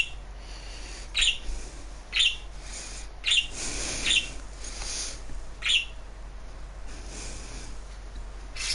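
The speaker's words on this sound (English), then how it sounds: "please do not mind my bird in the background. There's nothing I can do about his constant screaming" A pet bird screams in short, shrill, piercing calls, about six evenly spaced bursts over a steady background hum, fairly loud and alone with no talk.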